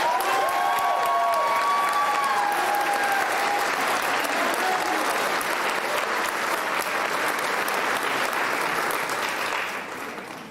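Sustained applause from an audience honoring students at an awards and scholarship night in an auditorium, a steady dense clatter of many hands lasting the whole stretch, with a few faint voices and whoops mixed in before it tapers at the end.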